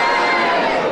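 A studio audience cheers and shouts together in a loud, broad burst of crowd noise that holds for the full second.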